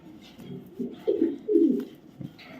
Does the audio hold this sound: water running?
no